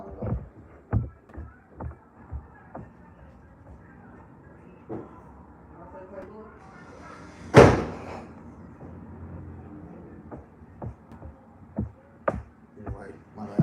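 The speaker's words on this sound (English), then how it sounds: "close whatever door you at, man" A door is shut somewhere nearby, one sharp loud thud standing out from scattered lighter knocks and faint room noise.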